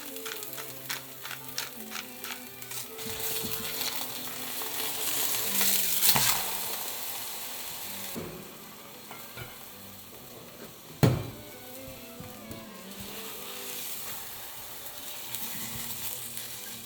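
Eggs fry in a pan with a soft, steady sizzle, broken by occasional scrapes and clinks of a utensil stirring; fairly quiet and close, with no talking.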